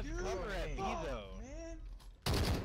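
Gunfire from the video game Call of Duty Modern Warfare: a loud burst of shots crashes in near the end, following a stretch of excited voices talking over the match.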